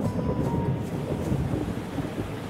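Storm wind roars steadily in a post-apocalyptic survival game, a dense, continuous low rushing gale with gusting surges and no voices.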